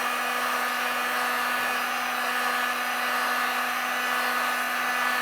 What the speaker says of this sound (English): we're going to take a heat gun, just heat it up